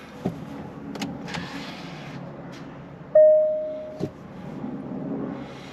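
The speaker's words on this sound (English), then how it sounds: "So that's me putting the parking brake on." Electric parking brake on a Range Rover Sport with a calibration fault engaging, a short motor whir with a brief tone and then a click inside the cabin, set among faint knocks and handling sounds.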